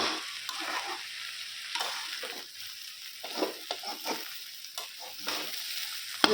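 Pieces of meat sizzle and fry in a pot for homemade chicken biryani, with steady crackling and repeated scraping stirs, close and fairly quiet, no talking.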